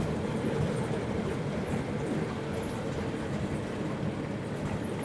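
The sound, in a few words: train passing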